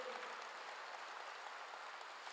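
A church congregation breaks into steady applause during a sermon, a dense, even wash of many clapping hands sustained throughout and heard alone.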